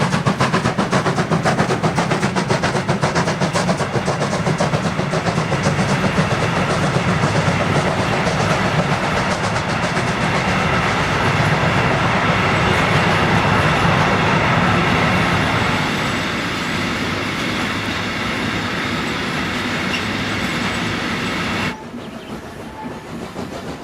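A heavy goods train hauled by a Thomas and Friends engine rolls steadily along the rails, a loud continuous rumble with faint clickety-clack that drops in level near the end.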